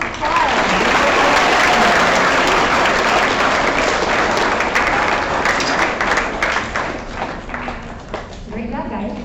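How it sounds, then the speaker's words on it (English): Sustained audience applause fills a school awards program, loud and dense throughout with steady clapping, easing slightly near the end. "Big round of applause."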